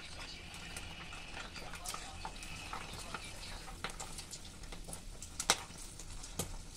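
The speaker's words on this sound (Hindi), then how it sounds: "सुबह ऑयल गर्म हो गया है, अब इसमें डालेंगे साबूदाना का पापड़ और इसको बीच में करछी से दबा देंगे।" Sabudana papad frying in hot oil, pressed down with a ladle, giving a steady faint sizzle and bubbling with a few sharp crackles and scraping taps.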